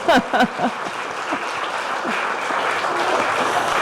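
Applause from a crowd at a Tulsi Gabbard campaign stop in Cedar Rapids, beginning with a few loud nearby claps and whoops, then settling into a steady, even roar of clapping.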